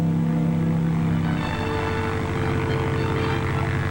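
A little Piper Cub propeller plane flies past, its engine droning steadily and fairly loud throughout, with a slight change in pitch partway through, from a 1940s wartime film.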